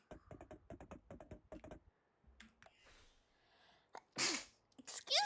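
Soft keyboard typing clicks come first, then after a quiet stretch a person lets out one loud, sharp sneeze, followed by a brief noisy burst.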